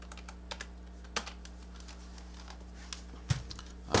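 Clicky keystrokes on a computer keyboard during a Mac OS X Mavericks install on an AMD PC, scattered taps with a few louder clacks near the end, close and alone over a steady electrical hum.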